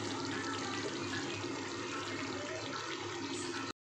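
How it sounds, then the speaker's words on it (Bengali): Water pours steadily into a pan of cooking curry for banana kofta curry, a continuous close rushing splash that runs unbroken for nearly four seconds before stopping abruptly, with no voices. "বন্ধুরা জল দিয়ে দিয়েছি"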